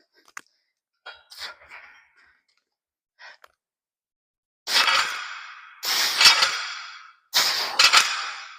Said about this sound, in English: always good when you hear the weights banging together there.